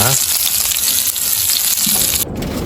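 Pork belly samgyeopsal sizzles steadily on a grill at a car-camping site, a dense, close crackle of fat that holds for under three seconds, with a brief dip near the end.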